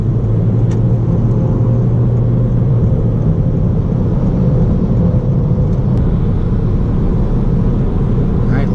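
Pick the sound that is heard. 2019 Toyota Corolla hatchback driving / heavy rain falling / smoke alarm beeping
2019 Toyota Corolla hatchback driving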